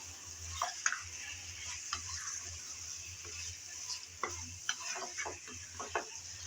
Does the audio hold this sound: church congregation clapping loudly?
no